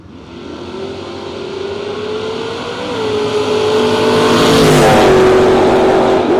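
A footbrake drag race car, a Valiant, launches at a Footbrake Challenge event, its engine roaring loudly and climbing steadily in pitch as it pulls away, with no talk.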